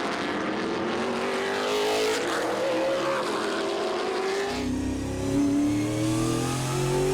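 Trans Am race cars at Portland International Raceway in 2024 roar past in a loud, continuous pack, engines revving and shifting with rising and falling pitch sweeps, then a nearer car takes over with a deeper, steadier drone.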